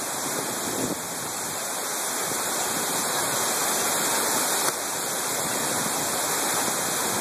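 Waterfall rushing on a hike at The Basin in New Hampshire, a steady broadband roar holding at an even, moderate level throughout.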